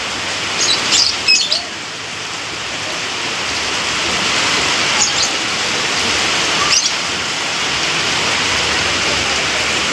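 Heavy rain hisses steadily throughout, joined by short bursts of bird chirping early on and again later in the clip.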